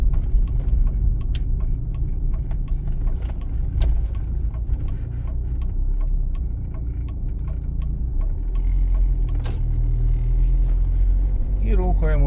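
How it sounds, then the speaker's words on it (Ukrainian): Left turn signal clicking steadily inside a car making a U-turn during a driving exam route in Dnipro, regular ticks over a low engine and road rumble, with a voice talking throughout. "Вмикаємо лівий показчик повороту і виконуємо розворот"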